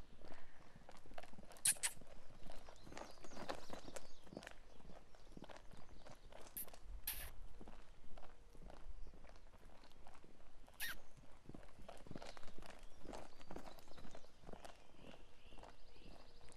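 A pony's hooves beat on the ground of a round pen as it canters, a steady, soft rhythmic thudding at moderate distance with scattered squeaks and no talk.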